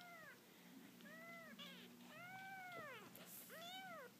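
A two-week-old kitten gives a series of about five thin, high meows, spaced out and heard nearby against quiet background hiss.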